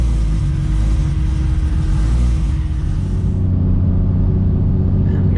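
A drag race car running on E85 fuel idles with a deep, steady low-frequency rumble, fairly loud and close, with no talk over it; the higher engine noise drops away partway through.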